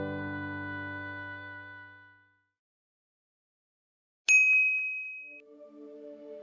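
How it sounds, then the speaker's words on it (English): The Hong Kong Customs House bell: a low sustained bell tone fades out, followed by silence, then a bright metallic ding rings out and decays, with softer tones after. "The bell of the Hong Kong Customs House rang."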